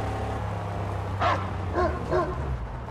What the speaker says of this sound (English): So the dog barks wherever it sees a mine